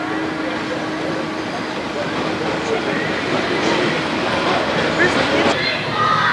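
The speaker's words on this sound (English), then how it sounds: "Maybe we ought to get on this tour train." A tour train at Opryland rolls along with a steady low rumble and faint rail clatter, heard from on board or nearby amid crowd murmur and voices talking.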